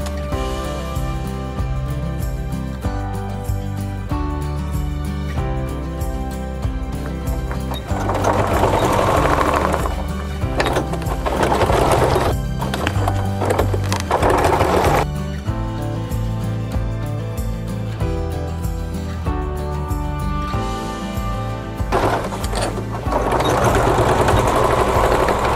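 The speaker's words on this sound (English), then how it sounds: "We're going to stitch down this line and then I'll come back and stitch this line." Sewing machine stitching a zipper onto coverall pants during a repair, running in steady continuous bursts with a brief pause midway, loud and close with no talk.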